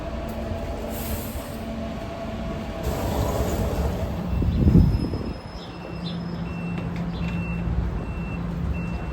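Riding on a train: a steady rumble of rolling wheels and cabin noise fills the whole stretch, swelling to a louder passing roar midway, with faint tonal beeps above and no voices.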